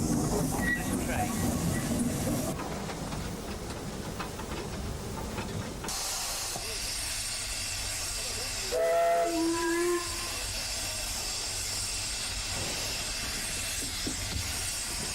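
A Ffestiniog Railway narrow gauge steam locomotive in Wales hisses steadily with loud broadband steam, and a short, wavering whistle sounds midway through.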